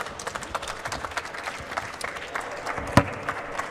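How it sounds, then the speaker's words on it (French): An audience applauding a guest, steady clapping that runs the whole stretch, moderately loud with a crowd murmur and a sharper peak near the end, with a voice heard over it. "On peut vous applaudir, un grand bravo"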